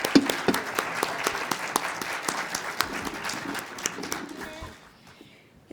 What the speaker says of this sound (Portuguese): Salva de palmas para o Lito.